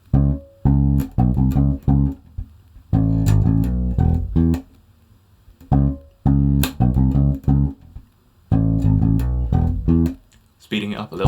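Bass guitar slowly plays a lesson riff for a song, covering two sections back to back, with low plucked notes in short phrases separated by brief pauses and no voice.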